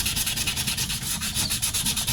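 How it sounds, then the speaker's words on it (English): Sandpaper rubbed back and forth over a handmade bladesmithing knife in quick, even strokes, a close, rhythmic rasping scrape with no talking. "we're just gonna sand it and hope for the best"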